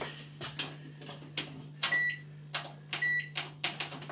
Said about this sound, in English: I've forgotten how to use the microwave.